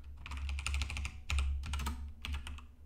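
Quick bursts of computer keyboard typing while writing a Rust test, close and clear, with clustered keystrokes broken by short pauses over a low steady hum.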